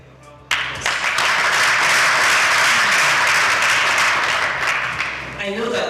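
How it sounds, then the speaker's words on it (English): A room breaks into applause at a live news event after a quiet lead-in, a loud sustained roar of clapping that swells quickly, holds, and tapers slightly at the end. "Please give them a round of applause."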